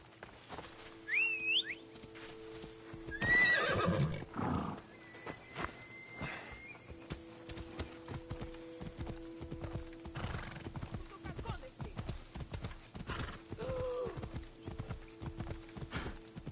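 A horse in Assassin's Creed Odyssey clip-clops along at a steady gait and whinnies clearly near the start, with game ambience underneath and a voice talking in the background.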